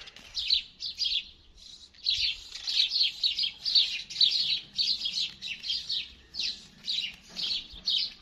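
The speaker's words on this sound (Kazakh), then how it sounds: "Ал нақта құстар ән салып жүр." Birds sing in a steady stream of bright, repeated chirps and trills, fairly close and clear, with no voices over them.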